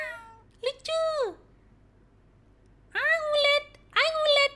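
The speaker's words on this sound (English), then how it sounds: "There's a cat!" Game-sound cat meowing in The Great Ace Attorney Chronicles: two pairs of clear, close meows, the first pair around the one-second mark and the second after a short silence, with no talk over them.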